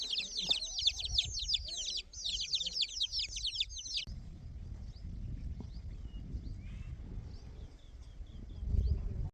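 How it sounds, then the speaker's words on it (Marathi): Rapid high-pitched peeping from a group of free-range country chicken chicks fills the first few seconds, then fades into a rumbling, scuffling background with faint scattered peeps. "हे बघा इथे लहान पिल्लं आहेत"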